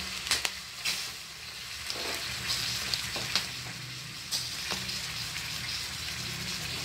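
Onions browning in a pan for mixed dal, a continuous moderate sizzle broken by sharp spatula clicks and scrapes at irregular intervals.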